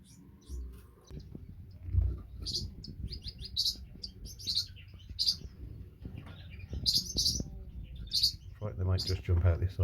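Canary nestlings close to fledging chirp inside a nest box in a birdshed, giving bursts of high, thin tweets and cheeps scattered close by, with soft handling bumps and a voice murmuring quietly underneath.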